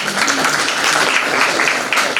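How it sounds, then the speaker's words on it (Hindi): Audience applause at a children's art competition prize distribution, a steady wash of many hands clapping together that holds evenly loud for its full length without pause. "तालियां बजाए सबके लिए,"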